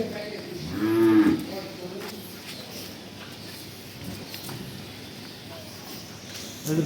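A Jersey Friesian dairy cow lets out one loud, drawn-out moo near the start while being led on a walk, followed by quieter shuffling and faint background activity, with a short louder sound at the very end.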